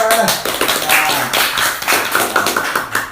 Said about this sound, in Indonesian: Tepuk tangan lagi, tepuk tangan